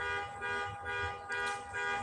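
Car alarm sounding, a faint steady electronic tone pulsing in regular swells over about two seconds, no talking.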